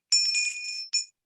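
A bright notification bell chime rings out clearly with a sustained metallic tone, followed by a shorter second ring, alone with no talking.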